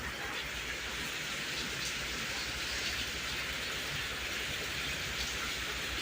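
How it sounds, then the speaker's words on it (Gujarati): A steady downpour of rain, a dense and unbroken hiss of drops that stays at an even level throughout with no voices. "ગાઈઝ હજી બી વરસાદ બંધ નથી થયો."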